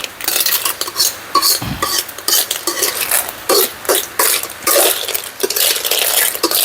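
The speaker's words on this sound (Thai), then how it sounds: "การ ผัดไปเรื่อยๆ ครับ คลุกเคล้ากันไปเรื่อยๆนะครับ ให้ความร้อนมันทั่วถึง" Shellfish are stir-fried and tossed in a hot pan, with rapid, rhythmic scraping and clinking of the spatula over a soft sizzle, close up and fairly loud, and no speech.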